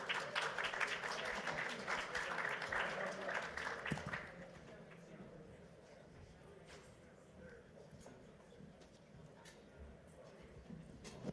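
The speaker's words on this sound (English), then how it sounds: "Please give her a round of applause." An audience applauds a panelist at a cannabis industry talk, a loud round of clapping for about four seconds that quickly fades to quiet room murmur with scattered faint sounds.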